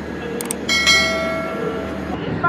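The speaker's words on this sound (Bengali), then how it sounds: "ট্রেন কিন্তু প্ল্যাটফর্ম থেকে ছেড়ে দিয়েছে" The Puri Howrah SF Express 12838 pulling out of Puri station: sustained ringing, bell-like tones and a horn-like blast sit over a steady, loud platform rumble.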